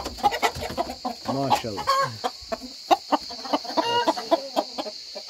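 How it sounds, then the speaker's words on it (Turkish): A fighting rooster in a coop, clucking and crowing in short bursts close by, with scattered bird calls and a brief spoken remark mixed in. "Bir anlat bakayım, bu horoz neyin nesi?"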